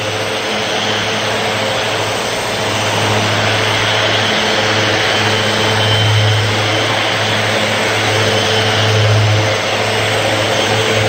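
A power sander works steadily over a leveled seam in a solid surface countertop, giving off a loud, unbroken motor whine and abrasive hum that swells slightly in the middle and near the end.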